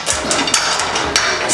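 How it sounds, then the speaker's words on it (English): Rollers are knocked back onto a telescopic electric sliding gate. A few sharp, close knocks land over a steady background hum, with no talking. "I'm just going to whack these rollers back on"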